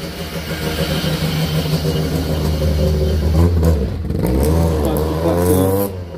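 A rally car engine at the Rallye des Ardennes accelerates hard through rising gears, loud and close, with sharp pitch sweeps as it shifts and a brief crackle between pulls.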